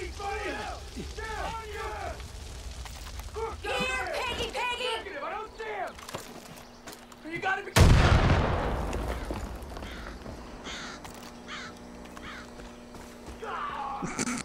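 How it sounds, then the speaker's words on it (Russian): Loud burst of gunfire in Far Cry 5 erupts from behind midway, a sharp crack followed by a decaying roar, with a voice talking before and after it. "Почему меня сзади кто-то стреляет"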